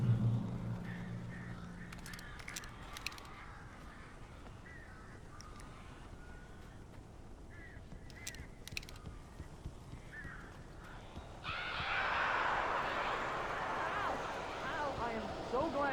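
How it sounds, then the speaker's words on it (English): Hostile crows caw harshly in the Alan Wake video game, with short bursts scattered over a noisy game soundscape and a louder rushing swell in the final seconds. "A couple of them got in here before I blocked the exit. This is normal. These birds are weird."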